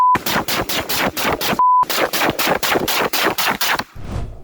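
Rapid bursts of automatic gunfire, loud and close, in two long volleys separated by a brief pause, trailing off at the end.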